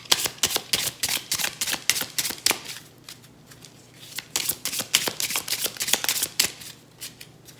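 Tarot cards shuffled for a reading, rapid crisp riffling and slapping in repeated bursts with short pauses between, close and clear with no talking.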